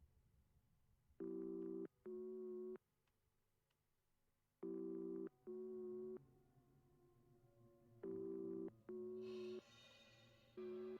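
A telephone ring recurs within a 1998 song: steady paired electronic tones sounding in three evenly spaced bursts over a faint, hushed musical bed.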